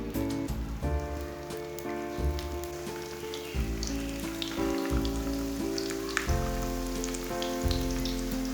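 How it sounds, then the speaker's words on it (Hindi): Keema roti samosas fry in lightly heated oil with a steady, crackling sizzle throughout, set under prominent background music. "ऑयल हमारा हल्का सा गरम हो चुका है। अब इसे फ्राई कर लेंगे।"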